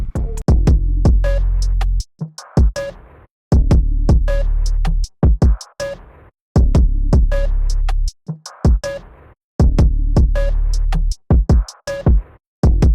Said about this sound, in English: here's what the drums sound like after I did all the drum programming